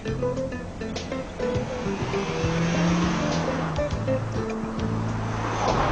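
A 1993 Mercedes C-Class drives by with a continuous engine note and road roar, a shifting tonal hum that rises and falls, heard fairly close under faint background music.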